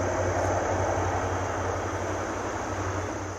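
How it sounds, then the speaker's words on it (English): A train rolls past near New York City, a steady loud rumble with a low hum and broad rushing noise that holds throughout and eases slightly at the end; no one talks over it. "the train's passing by from New York City."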